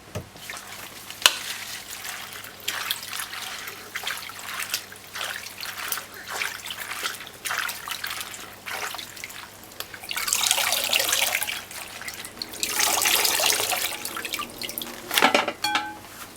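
Running tap water splashes and gurgles while callaloo leaves are swished and rubbed, the flow swelling louder in two long stretches toward the end.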